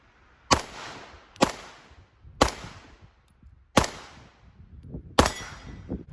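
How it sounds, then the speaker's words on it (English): An IWI Jericho 9mm pistol fired five times at a shooting range, sharp loud reports spaced about a second apart, each with a short ringing tail. "got the IWI Jericho 9mm."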